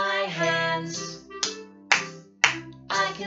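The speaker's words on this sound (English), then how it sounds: "I can clap my hands." Hands clapping in a children's song, four sharp, evenly spaced claps landing about half a second apart after a sung musical phrase with sustained melodic tones.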